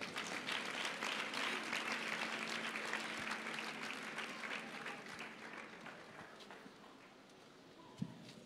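A church congregation claps together during a Sunday service, a broad sustained wash of applause that gradually thins and fades over several seconds, with a sharp knock near the end.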